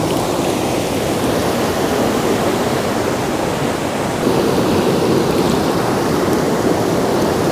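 A river near the Penna Ahobilam temple rushes past in a strong, steady roar of broadband water noise, loud and close, with no pauses or voices.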